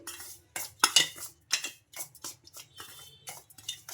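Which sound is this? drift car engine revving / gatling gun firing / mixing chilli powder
mixing chilli powder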